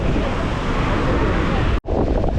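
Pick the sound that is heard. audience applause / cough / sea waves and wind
sea waves and wind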